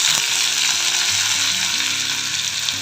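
Mustard seeds and urad dal sizzle in hot ghee for a tempering, a steady loud crackling fry with faint stirring underneath and no voices.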